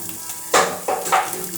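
Dried shidol fish stirred in a pan with green chilies and garlic gives a few quick sizzling bursts, close and fairly quiet, with no talking.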